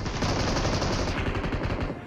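Sustained rapid automatic gunfire in the battle royale video game BGMI, a loud dense stream of shots filling the whole stretch without pause and fading slightly at the end.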